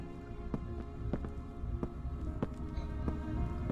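Steady rain falls in the video game Heavy Rain, a dense constant hiss with periodic sharper footstep-like knocks over it, all at a moderate, even level.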